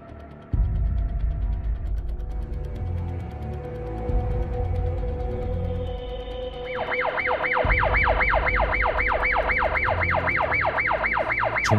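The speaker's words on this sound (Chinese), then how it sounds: "重庆大学的一栋办公楼里传来一阵类似警报声的声音" A police warning light on a camouflage container outside a Chongqing University office building sounds a loud rising-and-falling siren wail that starts partway through, following steady mechanical humming and clanking, all continuous and close.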